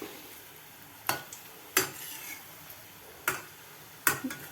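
Bread gulab jamun balls go into hot oil for frying. A faint, steady sizzle runs underneath, broken by four or five sharp clicks and clatters spaced about a second apart.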